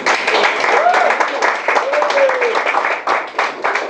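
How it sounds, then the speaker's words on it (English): A round of applause at a Paris spoken-word and literary event, a modest group clapping loudly and unevenly nearby, with cheers or voices rising over the clapping. "I'm just going to give a huge, massive round of applause for Monique Wells"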